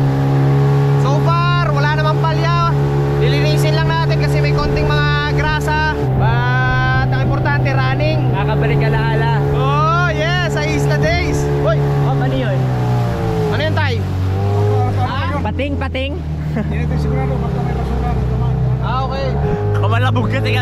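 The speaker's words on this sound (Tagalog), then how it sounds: "I-testing natin ngayon yung makina kung okay." A boat's engine runs on a test, a loud continuous motor drone with steady harmonic tones that shift in pitch as it revs up and down, while someone talks over it throughout.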